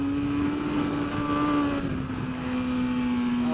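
A superbike engine drones steadily during a race, a close, loud, high-pitched whine holding nearly constant pitch with a slight dip midway before settling back on the throttle.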